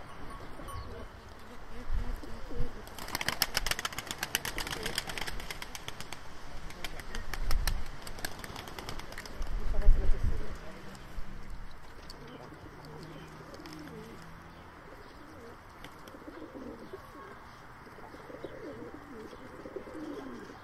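Sivas game pigeons coo in a low, steady murmur while bursts of close wing flapping rise and fall over the first ten seconds, then settle into softer cooing, with faint voices nearby.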